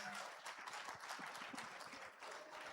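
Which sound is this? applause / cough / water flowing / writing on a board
applause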